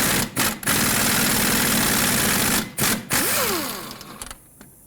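Nut and bolt holding the rear strut to the knuckle on a 2001-2007 Toyota Highlander are being removed with a 19mm socket: steady mechanical whirring of a powered tool, interrupted by two short pauses, then tapering off near the end.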